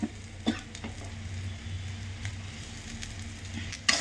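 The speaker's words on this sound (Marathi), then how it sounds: "आपण हे भाजून घेणार आहे मीठ टाकून थोडं आता" Green chillies, peanuts and cumin roast with salt in a pan, giving a steady close sizzle broken by a few sharp stirring scrapes and taps.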